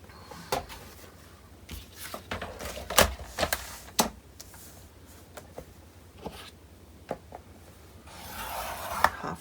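Soft, close scratches and taps as a scoring tool presses crease lines into paper against a ruler, irregular short strokes with quiet rustling between them and a longer rubbing pass near the end.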